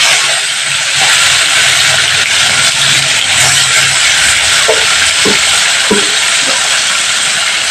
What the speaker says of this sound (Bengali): লবণ হলুদ দিয়ে মাখানো রুই মাছগুলো আমি এক এক করে তেলের মধ্যে দিয়ে দিচ্ছি